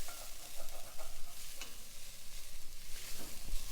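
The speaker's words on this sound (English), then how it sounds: "We're just gonna saute that until you can smell the garlic." Garlic cloves sautéing in a hot pan give a continuous close sizzle and frying hiss with soft stirring scrapes, heard alone without talk.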